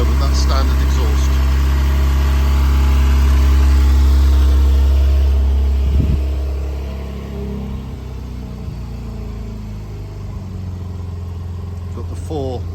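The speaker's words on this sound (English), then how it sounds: "That's standard exhaust at the moment, not sports exhaust." A 2017 Porsche 911 Carrera (991.2) with a 3.0-litre twin-turbo engine idles on its standard exhaust, a deep steady rumble that eases slightly halfway through while a voice talks nearby.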